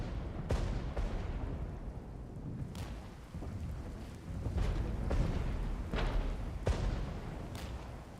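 Artillery fire in the battlefield game Regiments thuds as deep, distant booms, several spaced irregularly over a constant rain-like hiss of battle ambience.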